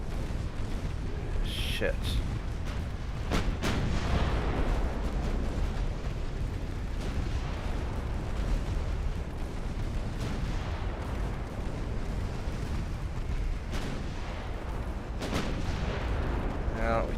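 A warship takes a torpedo hit during a naval battle in Ultimate Admiral Dreadnoughts, amid rumbling explosions and sharp gunfire bursts across a busy battle soundscape, with a man briefly swearing over it.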